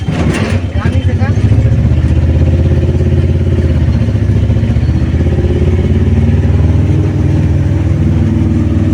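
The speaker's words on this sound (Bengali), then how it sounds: "গাড়ির আওয়াজটা বেশি আসছে," A car being driven gives a loud, steady low engine rumble from inside the cabin, with a clattery start that settles into a constant drone.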